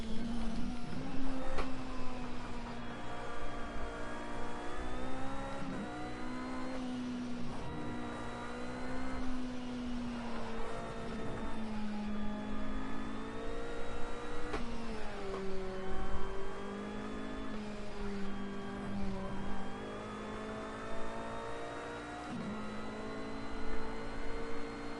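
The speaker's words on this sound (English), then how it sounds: "This game has a really cool Formula car in it called Formula X." Formula X race car engine in a PS4 racing game, holding a steady loud whine that shifts pitch up and down with revving, heard alone throughout.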